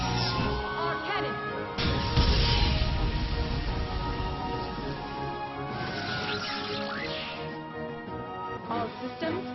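Cannon fire in the Xenosaga video game: a heavy blast at about two seconds over ongoing game music and effects, with another burst later.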